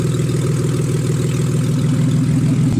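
A rebuilt forged BMW S52 engine idles loud and close, with a steady low pulsing throb that holds evenly throughout.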